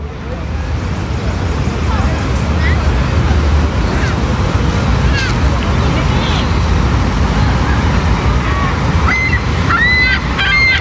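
Niagara Falls at evening, packed with visitors: a loud, unbroken roar of falling water fills the scene, with crowd voices mixed in underneath.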